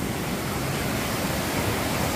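A foaming hill stream at Poovaranthod in Kozhikode's high ranges rushes over rocks, making a dense, steady hiss of flowing water, close and unbroken, with no voices.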